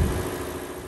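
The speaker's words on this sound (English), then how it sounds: "This is a 5-liter V8 engine paired with a 10-speed automatic transmission, and it's a 4x4." A 5-liter V8 in a 2023 Ford F-150 XLT 4x4 idles nearby, giving a steady low rumble without revving or voices.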